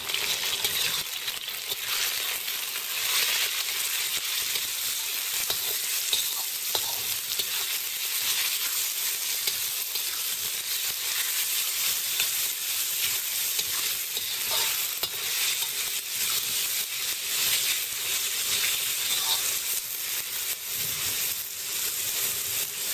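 Tofu stir-frying with bean sprouts in a hot pan gives a loud, steady sizzle and hiss, with stirring scrapes throughout, close up and without talk.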